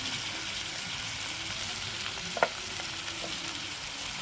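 Tomato, onion and salt fry in a pan for a spicy chela fish curry, a continuous close sizzle with one brief clack of the spoon midway as it is stirred, no talking.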